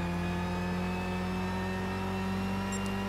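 A race car's engine in Gran Turismo 6 on the Silverstone circuit holds a steady, high-revving drone with a clear, even pitch for about three seconds, fairly quiet and alone.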